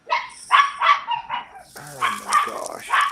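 A dog barks several times at close range, the sharp yaps mixing with people chatting casually nearby.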